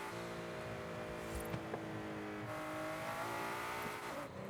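Ford GT engine in Forza Horizon 5, a steady sustained drone with layered engine harmonics and a brief rising rev near the middle, loud and continuous with no voices.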